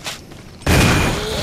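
Two gunshots from a handgun in the Resident Evil Remake HD video game: a faint early shot followed by a louder, sustained blast with a ringing tail.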